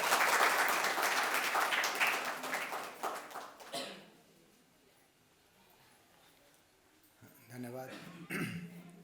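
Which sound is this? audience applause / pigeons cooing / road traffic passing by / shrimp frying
audience applause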